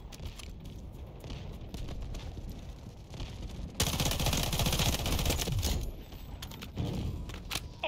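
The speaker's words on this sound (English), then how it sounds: "Artillery ready for barrage." Artillery barrage in the military shooter Delta Force Hawk Ops, a steady roll of overlapping blasts that grows louder and denser midway, then eases into scattered bursts.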